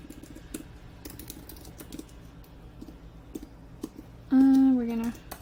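Keys tapped on a computer keyboard while entering a heading in a Notion page, a sparse run of light clicks over a low hum, ending with a short burst of voice.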